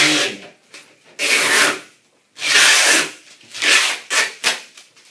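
Clear packaging tape is peeled back off a banner in several loud, rasping tearing pulls of a second or so each, separated by short pauses, close up with no talking.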